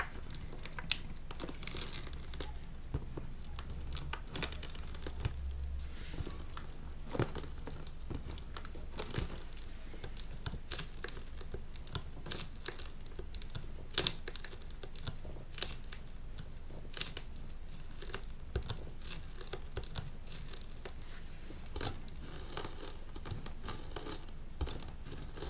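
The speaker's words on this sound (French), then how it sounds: "Et si on appuie sur la boîte," Fingers press repeatedly on a cardboard box sealed with sticky tape, giving close, crisp crinkles, tacky tape crackles and soft taps in a steady, irregular stream with no talking.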